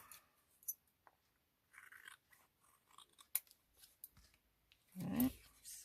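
Scissors trim paper ephemera in a series of quiet, close snips and crisp cuts spaced irregularly, with a slightly fuller paper rustle near the end and no talking.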